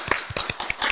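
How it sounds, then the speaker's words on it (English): Brief burst of clapping on a podcast set as a guest is welcomed, a handful of close, sharp claps in quick uneven rhythm. "Clap it up"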